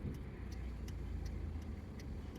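A car engine idles steadily and revs lightly while the clutch is released, a continuous low drone close by with faint periodic ticks above it.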